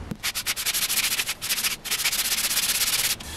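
A guitar fingerboard rubbed back and forth on a flat sanding surface, loud close rhythmic abrasive strokes in quick repeated passes with a couple of brief pauses.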